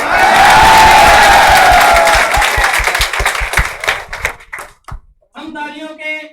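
Dense applause with cheering from a packed seminar audience, loud and sustained for about four seconds, then thinning into scattered claps before a voice begins speaking.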